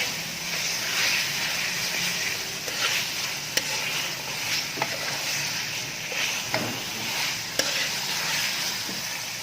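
Mutton and potatoes browning over high heat in a pot for aloo gosht, with a steady loud sizzle and hiss and occasional scraping stirs and small clicks.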